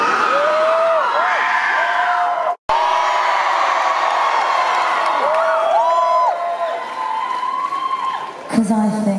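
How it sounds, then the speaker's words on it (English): A large concert crowd at a show in Helsinki roars and whoops continuously, loud and dense, with shrill individual screams rising above the mass and a brief cut partway through. "Stop cheering."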